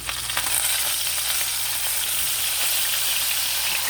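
Steak sears in a hot pan, giving a steady close sizzling hiss that runs unbroken for a few seconds with no talking.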